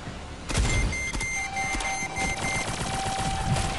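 Sniper rifle fire in the mobile shooter Shadowgun Legends: several sharp shots ring out over a steady, busy game background, with tonal effect sounds layered in.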